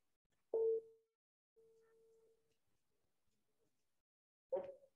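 A WhatsApp call ringing tone: a thin electronic tone held for about a second between two short bursts, quiet and isolated against silence.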